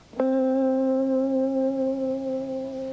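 One blues guitar note is picked and sustained for nearly three seconds, its pitch wobbling in a quicker vibrato while it rings out clearly and slowly decays, played alone with no speech.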